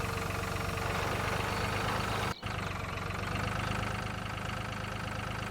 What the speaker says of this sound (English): Even this sowing machine's a little much for this little tractor, but you know what? It gets the job done over here for now.